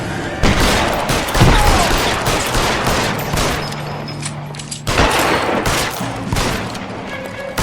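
Gunfire in the crime video game L.A. Noire, loud bursts of rapid shots in a sustained firefight, with a brief pause midway before the shooting resumes.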